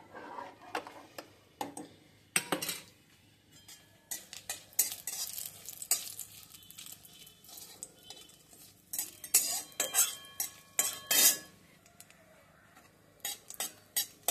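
Dried red chilies fry in a pan with a soft, continuous sizzle, broken by intermittent scraping and clinking of a metal spoon stirring against the pan, close up and without speech.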